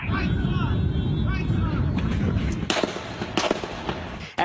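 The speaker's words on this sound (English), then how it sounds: "the chilling moment that rapid gunfire broke out in Alexandria this morning" Rapid cracks of gunfire ring out in quick bursts at a baseball field shooting in Alexandria, Virginia, as police return fire, over a steady roar of background noise, sharp and fairly close.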